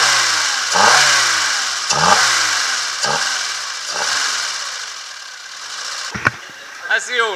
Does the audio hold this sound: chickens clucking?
no